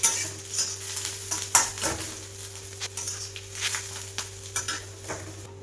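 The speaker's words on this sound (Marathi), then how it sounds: "लाल मिरच्या याच्या छान भाजून घ्यायच्या" Dry red chillies roast in a pan, with a low sizzle under repeated spatula scrapes and metallic taps at an uneven rhythm, close by and with no voices.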